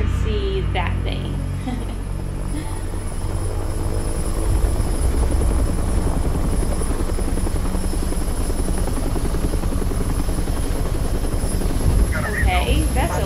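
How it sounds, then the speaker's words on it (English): A helicopter in the video game Resident Evil 3 drones loudly and steadily with a dense rotor thrum that fills the whole stretch, and brief game sounds come in near the start and end. "that's a weird looking helicopter"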